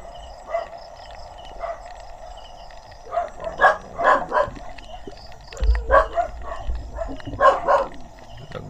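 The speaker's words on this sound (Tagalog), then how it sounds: "Nagbabatok yung mga aso." Dogs bark at night near a Philippine shore, a cluster of sharp yips and barks in short bursts at mid distance, spaced over several seconds against a quiet background, with a brief low thump partway through.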